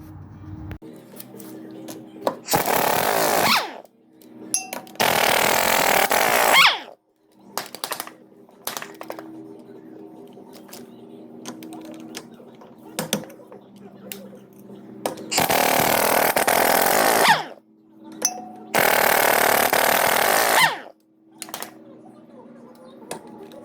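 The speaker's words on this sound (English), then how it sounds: "let me get these lug nuts undone" A power tool spins lug nuts off a wheel of a 1967 Chevy G10 van, four loud, close bursts of whirring rattle each lasting a second or two, separated by quieter stretches with light clinks.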